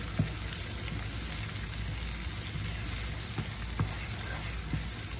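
Eggs fry in a pan with a steady, dense crackling sizzle that fills the whole stretch, close and fairly loud, with a few small pops and no talking.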